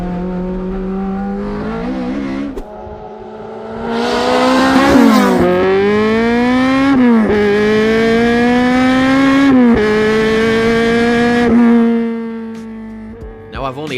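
Lotus Exige S1 with a swapped-in Honda K20 2.2-litre engine, loud and close, revving hard through repeated rising pulls with sharp gear-change dips, passing by with a droning, high-pitched four-cylinder wail.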